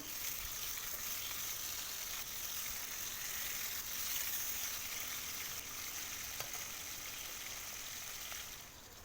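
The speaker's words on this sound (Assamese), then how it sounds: "এতিয়া মাছকেইডোখৰ খুব ধুনীয়াকৈ ফ্ৰাই কৰি ল'ম।" Fish pieces frying crisp in hot oil make a faint, steady, even hiss that carries on throughout and drops slightly at the very end.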